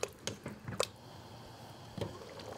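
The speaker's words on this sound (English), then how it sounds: "Give it a stir." Thick tomato jambalaya is stirred in a pot, giving a few soft, wet squelches and sloshes, close but quiet, followed by a near-silent pause and one last squish.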